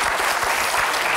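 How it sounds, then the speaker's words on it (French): Studio audience applauding on the set of a French daytime talk show, a steady dense wash of clapping filling the short moment without any voices. "applaudissements"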